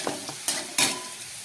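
Potatoes sizzle in a pan with a fried dried red chilli tempering, with a few sharp stirring scrapes and bursts of hiss over a short moment.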